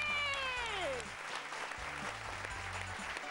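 A studio audience on a Bengali television game show breaks into loud, sustained clapping, with a high cat-like meow sound effect sliding downward at the start, then applause continuing steadily under a faint stuttering low tone.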